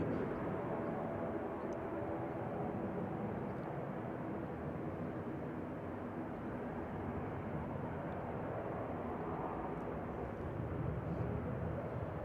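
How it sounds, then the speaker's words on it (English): An EasyJet airliner bound for Paris Charles de Gaulle at Manchester Airport gives off a distant, steady jet rumble, a faint, even drone that holds unchanged for several seconds. "EasyJet 2109 to Paris Charles de Gaulle there, GZWB"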